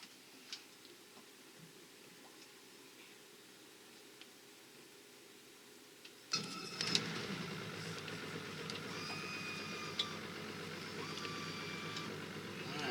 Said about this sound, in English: that's the motor running in idle